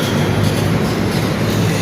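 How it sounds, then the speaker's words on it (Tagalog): A light rail train runs along its tracks in Manila, giving a steady, loud low rumble and rattle throughout without pause, with no clear talk over it. "Minsan ako nag-LRT."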